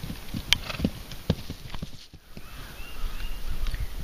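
Hooves of a horse named Poco clip-clop steadily on the ground as he is lunged in a circle on a long line, with a few sharper strikes early and a quieter stretch near the middle.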